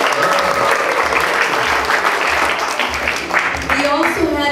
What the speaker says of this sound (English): give a little cheer, folks, when I name your class